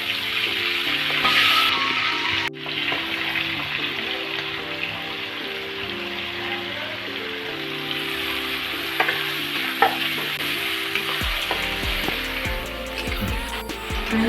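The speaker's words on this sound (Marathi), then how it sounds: "भाज्या परतण्यासाठी भरपूर तेल टाकून घेतलं त्याच्यात थोडंसं चमचाभर बटर टाकायचं" Vegetables frying in plenty of oil with a spoonful of butter for homemade pav bhaji, a close, steady sizzle with stirring scrapes and clanks, running under a sustained musical tone through most of the clip.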